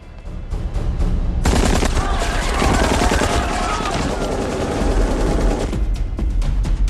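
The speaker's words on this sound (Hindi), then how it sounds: "सर किसी ने एयरपोर्ट पे ओपन फायर किया है" Sustained loud automatic gunfire erupts at an airport in a Hindi drama series, a dense continuous burst of shots after a few sharp single cracks, close and overwhelming, then trailing into scattered rapid shots.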